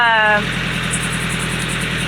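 A sailboat's engine runs steadily after a battery test. A brief tonal whine fades in the first half second, then an even, close idling drone continues.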